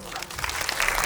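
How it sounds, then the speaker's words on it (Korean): Brief audience applause at a film talk event, honoring a writer's fans, a short burst of steady clapping from a crowd. "박상훈 작가님 팬분들도 몇 분 또 모신 것 같아요. 그래서 박수를 한번 부탁드리겠습니다."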